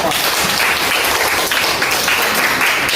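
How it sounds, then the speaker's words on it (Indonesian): Applause from a class of students fills the room, a dense, steady burst of clapping lasting the whole three seconds at close range. "Tepuk tangan untuk semua."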